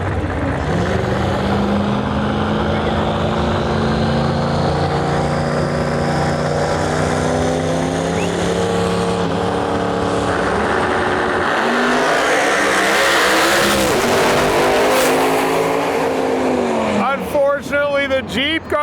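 Corvette and Jeep Grand Cherokee SRT8 drag racing at a Lights Out eliminations event, loud engine roar rising in pitch as the cars launch and run down the track, with an announcer talking over it throughout.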